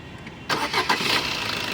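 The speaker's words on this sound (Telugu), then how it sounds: "ఇంజిన్ ఆఫ్ చేశాను మళ్ళీ స్టార్ట్ చేస్తున్నాను చూడండి" A 2018 Maruti Dzire ZDi diesel engine cranks and catches on a single try after a brief quiet moment, then settles into a steady idle nearby.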